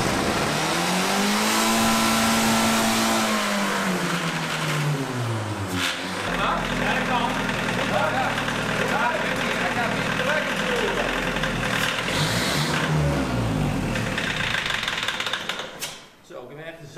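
An old aerial work platform's engine runs and revs, its pitch rising and falling in swells before settling into a steady rough running, with people talking over it throughout.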